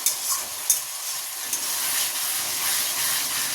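Egg kosha curry sizzles in a pan with a steady, bright hiss, broken by a few sharp clinks of stirring early on; close and continuous, no talk.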